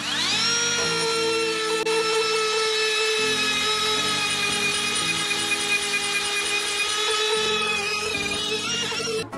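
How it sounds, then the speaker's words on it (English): Power tools grind and shape the steel blade of a DIY knife, a loud continuous high-pitched whine with a steady motor hum whose pitch steps up and down as the tool bites, held for the whole stretch. "I decided that we needed to break out the power tools and get this job done"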